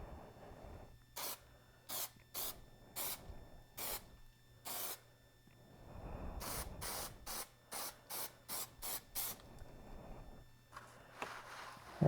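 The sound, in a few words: spray can spraying Plasti Dip coating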